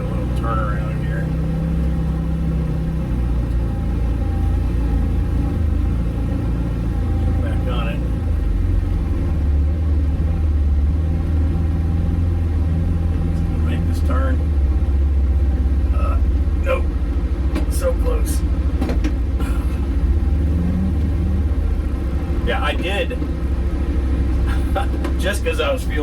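A Can-Am off-road vehicle idles and rumbles steadily as it turns around on a trail, the engine note low and constant while someone talks throughout.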